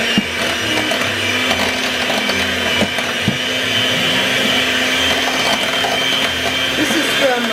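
A cake batter is mixed with a motorized mixer, giving a steady, loud whirring drone with a low hum and faint rattling throughout, with occasional small knocks.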